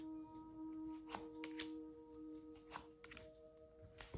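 Tarot cards being shuffled by hand, a soft run of papery riffles and taps with several sharper flicks, close and quiet over a faint steady hum.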